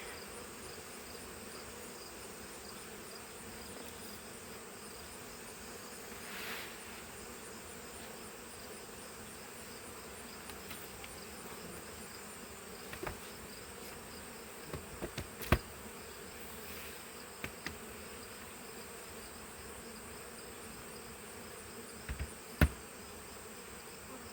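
Steady insect buzzing fills the air, a dense outdoor drone of many honeybees around hive boxes being reassembled, with a few faint knocks and taps scattered through.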